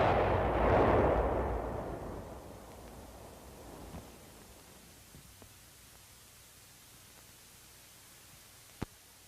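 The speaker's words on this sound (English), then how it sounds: "Then the charge is fired." A demolition charge is fired to destroy an enemy earthen tunnel in combat. A deep, distant boom rolls out, then a long rumble fades over several seconds before a single faint crack near the end.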